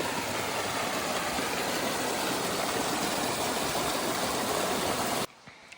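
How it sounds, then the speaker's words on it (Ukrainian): Water pours down a waterfall in a Carpathian forest, a loud, dense, continuous roar of rushing water heard close up with no voices, ending abruptly near the end. "Мабуть, це і є наш водоспад."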